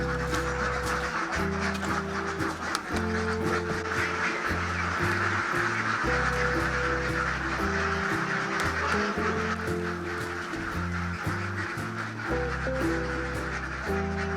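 Ducks quack over and over at a village farm in Aceh, a dense flock chattering almost without pause, loud and close, layered with steady low droning background noise.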